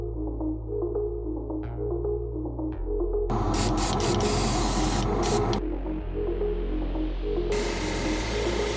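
An aerosol can sprays paint onto a Star Wars arcade desk build: two sustained hissing bursts, one midway and one at the end, close and loud over a steady background hum.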